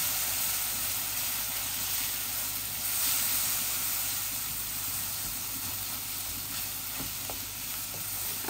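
Spices frying and sizzling in a pan for a Bangladeshi shrimp bhuna with mixed greens, a steady close hiss with occasional stirring scrapes and no talk.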